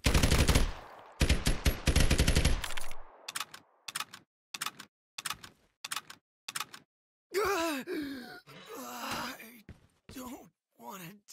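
Gunfire in the video game Lost Light opens with a dense rapid burst of automatic shots, then gives way to a string of separate single shots spaced through the rest, with voices talking in between.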